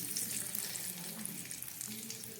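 Whole spices such as cardamom, cloves and cinnamon with bay leaf frying in hot oil for a broiler chicken curry, giving a steady close sizzle that runs unbroken with no talk over it.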